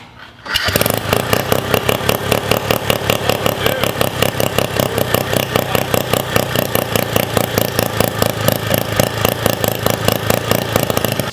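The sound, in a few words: turbo rotary minibike engine running with pulse pump test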